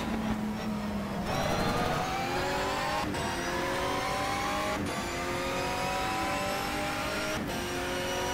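Race car engine at full throttle in GTR 2 at Vayline International Raceway, revving up through the gears with sharp shifts breaking each rising howl, loud and close with no talk.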